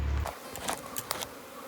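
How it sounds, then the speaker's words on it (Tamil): A swarm of honey bees lifting off, giving a brief, close buzzing with a few sharper bursts as they take to the air. "எல்லா தேனீக்களுமே எந்திரிக்க ஆரம்பிச்சிருச்சு"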